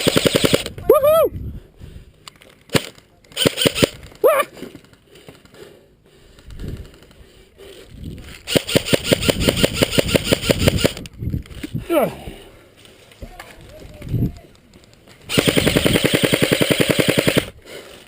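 Airsoft guns firing in an outdoor Tactical Wales skirmish, rapid full-auto bursts of clicking shots in several loud volleys, mixed with shouting voices and breathing between strings of fire.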